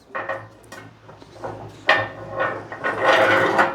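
Metal bearings slotted into the frame of an antique mangle, a series of short knocks, scrapes and clinks at close range, some sharper than others, with no voices.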